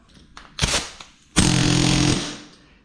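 Mac Tools pneumatic air hammer working on a rusty Model A hotrod in a closed garage: a short harsh burst, then a longer loud rattling blast that fades out.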